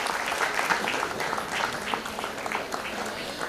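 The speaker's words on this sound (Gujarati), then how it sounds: "તાળીઓથી વધાવી લ્યો." A crowd at a school award ceremony honouring a school with 100% results claps steadily throughout, a dense, even wash of many hands applauding at moderate volume without pause.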